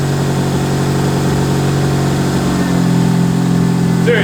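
Engine of a Mitsubishi Lancer with a turbocharged 4G15, running with a quieter exhaust: a steady low hum that settles into a smoother drone partway through, loud and close.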